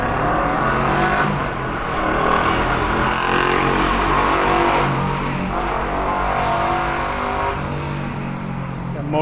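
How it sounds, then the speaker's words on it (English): A motorcycle roars past on a Brooklyn city street, a loud revving engine swelling and fading amid traffic noise, with people talking nearby. "Got a motorcycle."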